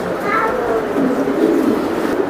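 Racing pigeons at a club coo in soft, continuous, rolling calls close by, with faint voices mixed into the background.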